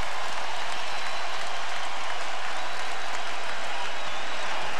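Fans in a Toronto Raptors basketball arena cheer and clap in a steady, unbroken roar that stays at an even level throughout.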